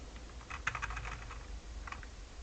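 Computer keyboard typing a command for the Nmap network scanner: a quick run of soft close keystrokes, a pause, then a shorter second burst, with no talking.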